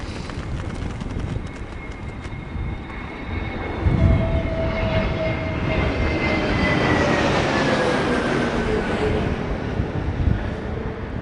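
A jet airliner roars at Heathrow Airport during Storm Darragh, a loud, sustained engine rumble and whine with shifting pitch, with gusty wind noise throughout.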